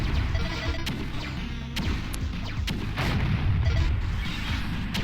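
Rapid sprayed weapon fire in the sci-fi shooter game Alien Outbreak, a dense, loud barrage of booming blasts and sharp cracks running continuously with no pauses.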